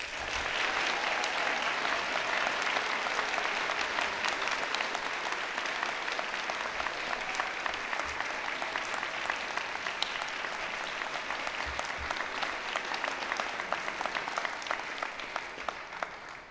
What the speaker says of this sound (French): Applaudissons chaleureusement les nouveaux diplômés des baccalauréats de la Faculté des sciences.